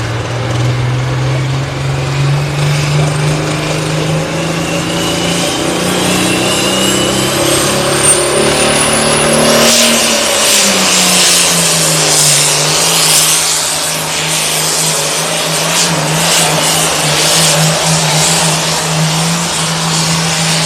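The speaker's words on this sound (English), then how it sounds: "466 cubic inch tractor. Like I say, fed by a big P-pump, 3x4 turbo taking the smoke out." A turbocharged 466 cubic inch pulling tractor, fed by a big P-pump with a 3x4 turbo, roars loud and sustained down the track at a county fair tractor pull, its engine pitch dipping midway then holding steady at full power.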